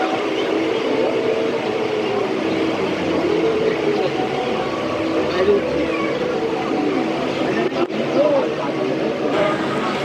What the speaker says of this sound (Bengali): ট্রেন আমাদের সাতবিরা স্টেশন থেকে ছেড়ে দিয়েছে